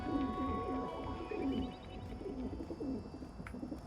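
Pigeons coo in a soft, repeated low rhythm inside the Dreamfall Chapters video game, set against a steady ambient background bed with no talking.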